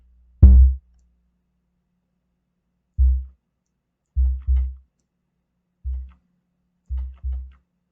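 A synthesized kick drum built from scratch in FL Studio: six deep, short, punchy thumps with a clicky attack, played alone in a sparse pattern with silence between hits.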